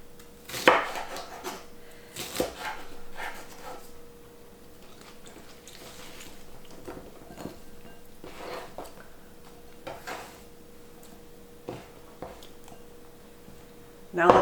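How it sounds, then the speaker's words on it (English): A knife slices bell peppers into strips on a cutting board, giving soft, irregular thuds and taps spaced a second or two apart. Quiet, with talking now and then. "So I like to cut my bell peppers into strips like this"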